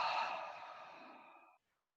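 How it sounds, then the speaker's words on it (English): A single long, deep exhale during yoga breathing, breathy and close, fading gradually over about a second and a half before stopping into silence. "let's take a deep breath in and see if we can feel up the chest. And then exhale."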